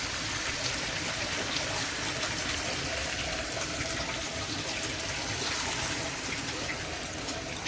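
Water pours steadily into a hot pan of fish being steamed, a continuous close hiss and gush lasting several seconds with no pauses or talk.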